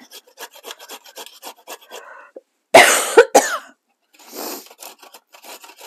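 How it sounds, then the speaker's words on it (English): Fresh ginger is grated on a metal box grater in a home kitchen as a run of quick, close rasping strokes, followed by a pause, a couple of coughs and then more light scraping. "so it's really easy with the box grater. Grate away."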